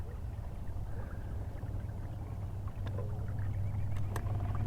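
A homemade electric trolling motor drives a kayak across the water, giving a steady low hum and churn with faint splashes and a few small knocks from the hull, close by and with no talking.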